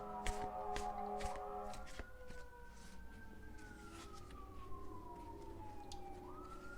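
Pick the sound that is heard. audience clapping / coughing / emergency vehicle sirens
emergency vehicle sirens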